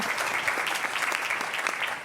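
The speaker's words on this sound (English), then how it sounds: "let's give them a round of applause" A crowd applauds steadily, a dense wash of clapping hands that continues throughout without pause.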